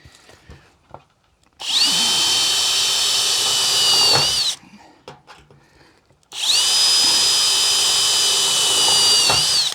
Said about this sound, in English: I think that drill bit's a little bit sharper than the other one.